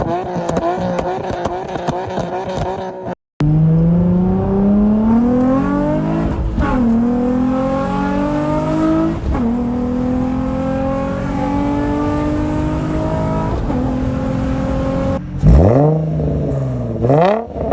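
A Nissan 350Z's aftermarket exhaust revs loudly up close, the engine climbing and dropping in pitch through several sharp throttle blips, with a brief cut between takes.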